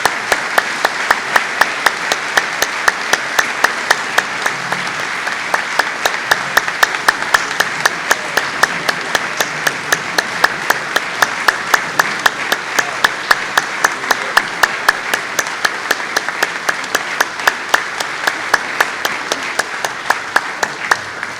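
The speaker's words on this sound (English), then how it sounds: "Let's give them our applause and thanks." Sustained audience applause at a church convention honoring new congregations, a dense, steady wash of many hands clapping with regular sharp accents throughout, loud and continuous with no talk over it.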